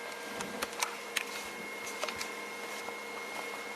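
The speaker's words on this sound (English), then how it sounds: "Now it's going to start printing." A 3D printer beginning its first PLA test cube gives a faint, steady mechanical whir dotted with light, irregular ticks and clicks, with no voices.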